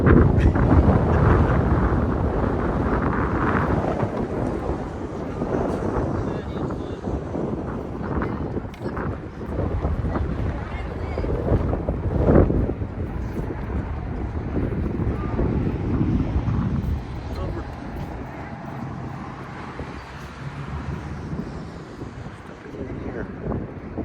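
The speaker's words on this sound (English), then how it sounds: "That wind picked up." Wind gusts buffet the microphone at an outdoor junior varsity tennis singles match, a continuous low roar that swells and eases, with occasional voices in the background.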